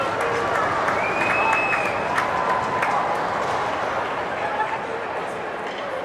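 A hockey crowd at a cup final roars and cheers after a goalie's save, a dense, sustained wash of applause and shouting with scattered whistles and yelps that slowly eases off.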